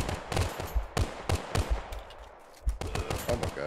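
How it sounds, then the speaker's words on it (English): Rapid bursts of gunfire in the VR shooter Half-Life: Alyx, played with the Contractors mod: sharp, loud cracks in quick clusters, separated by short pauses. "we're gonna do a little bit of shooting around and see how this goes"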